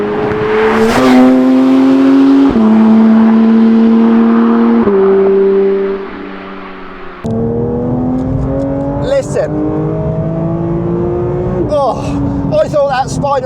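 A Porsche GT3 on the move, its engine revving hard through rising high-pitched sweeps with sharp gear-change breaks, loud and close, then heard from a distance with a voice talking over it.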